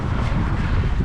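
Strong wind buffets the microphone outdoors in a dense, continuous low roar with rumbling gusts throughout the short stretch.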